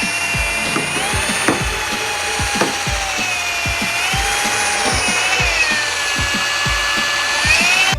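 A power drill whirs steadily at a high pitch for several seconds mixing green liquid for fake blood or slime, with faint knocking and clattering underneath, close by and loud.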